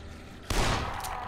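A single sharp, loud gunshot in the zombie video game Dead Island fires during a headshot after a quiet lead-in, followed by a sustained, echoing roar that fills the rest of the moment.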